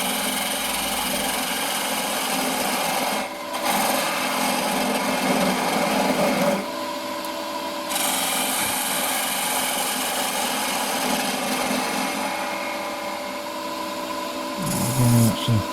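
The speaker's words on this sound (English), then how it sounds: "Just using the parting tool to mark out where the lid's going to go, or the actual size dimension of the lid." A parting tool cuts into spalted hazel turning on a wood lathe. It makes a continuous bright scraping hiss over the motor's steady hum, with brief pauses and shifts in tone as the cut changes.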